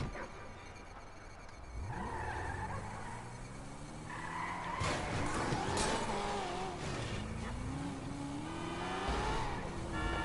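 Cars race and skid in a PS4 driving game, with engines revving and rising in pitch and tires squealing in long, loud sweeps that overlap. No one talks.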